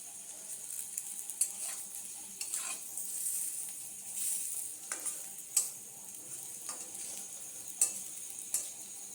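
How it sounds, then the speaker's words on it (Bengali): Potatoes frying in a home kitchen pan give a soft, steady sizzle broken by irregular spatula scrapes and clicks against the pan, fairly close and unaccompanied by talk. "এই যে আলু ভাজা ভাজা হচ্ছে"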